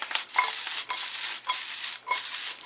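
Rhythmic scraping stirs of beef jerky and ramen noodles in a sizzling stir-fry pan, about five strokes over a steady frying hiss, close and loud with no talking.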